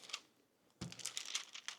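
Paper wrapped back around a homemade fibre protein bar gives off faint, close crinkling and rustling, quiet at first and then a denser run of small crackles.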